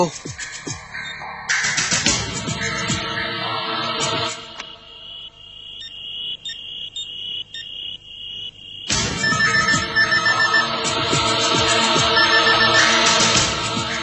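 A telephone rings in a television serial, its repeated electronic ringtone chirping steadily under loud background music and scattered voices, then carrying on in the middle while the music briefly drops away.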